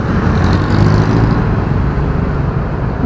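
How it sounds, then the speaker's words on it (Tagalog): Dense road traffic noise heard from a tuk-tuk on a delivery ride through congested Manila streets, a steady loud engine and roadway rumble with no talk over it. "Grabe naman yung traffic dito."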